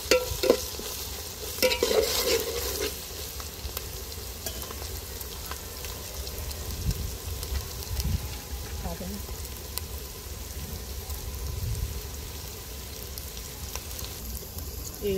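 Ginger crackles and sizzles in hot oil in a home kitchen pan while a tamarind fish curry is being prepared, a close, steady frying hiss with brief stirring clatters and a voice speaking intermittently.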